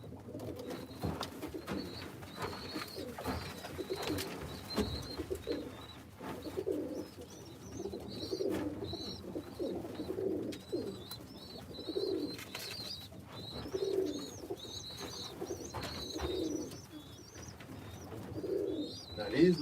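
Birmingham Roller pigeons coo steadily in a loose, repeating rhythm, with soft chirps and faint background noise throughout and no talking.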